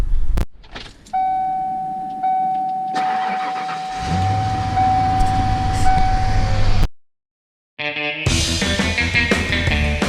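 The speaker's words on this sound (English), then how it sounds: "Civic cold start" A Honda Civic cold-starts in winter, the starter cranking before the engine catches and settles into a steady mid-pitched idle, followed by a short gap and a burst of whirring mechanical noise, close and loud.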